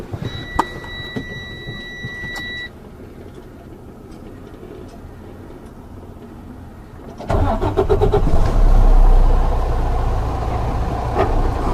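A few clicks and a quiet pause, then a 2020 Freightliner Cascadia 125 semi truck's large diesel engine cranks and roars to life, settling into a loud, steady rumbling idle.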